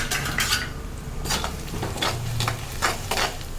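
Greens and curry leaves sautéed in hot oil with a utensil scraping and stirring against the pan, repeated bursts of clatter over a steady sizzle, close and loud.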